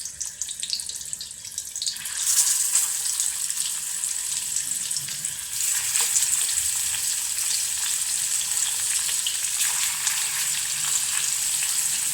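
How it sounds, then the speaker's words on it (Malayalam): Fish sizzles and crackles in hot oil in a pan, a steady bright hiss that grows louder after a quiet start and continues without talk. "ഇനി അടുത്തത് മീൻ വറുക്കണം"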